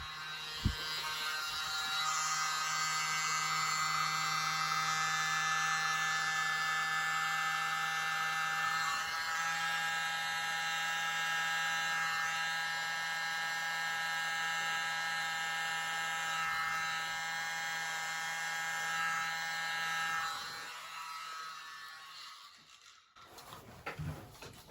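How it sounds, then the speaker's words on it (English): A small electric mini blower whirs in a steady high-pitched motorized hum aimed at an acrylic paint pour, running continuously and close for about twenty seconds before cutting off with a few handling knocks. "Just going to use my mini blower today."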